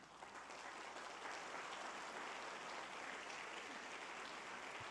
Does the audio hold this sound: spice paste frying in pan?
no